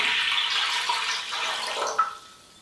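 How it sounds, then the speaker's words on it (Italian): Four liters of water poured into a pot for dyeing fabric, a steady close splashing pour for about two seconds that stops abruptly. "Quindi versiamo l'acqua"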